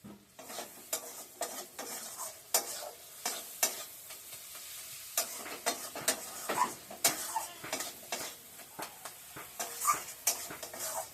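Dried fish masala with garlic and chilli sautéed in a pan, a steady bright sizzle broken by repeated scraping stirs of a spatula against the metal, close up and without talk.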